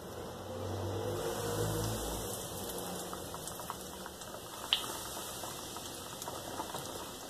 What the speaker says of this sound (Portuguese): Agora vamos estar fritando.